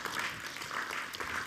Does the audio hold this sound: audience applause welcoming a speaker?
yes